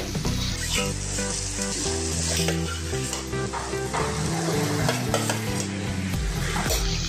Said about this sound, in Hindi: अभी इसमें हम दही डालेंगे